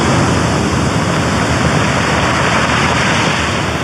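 Ocean surf rolling onto an east coast beach, a steady loud broadband wash with no distinct breaks, heard alone without voices.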